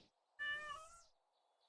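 A pet cat lets out a single loud, drawn-out meow, close by, with quiet room tone around it and the start of another sound at the end.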